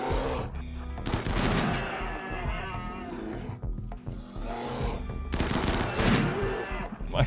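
Dense, relentless gunfire from trigger-happy snipers in the colony-survival video game RimWorld, with loud overlapping shots and bursts filling the whole stretch, close and harsh, with brief dips between volleys.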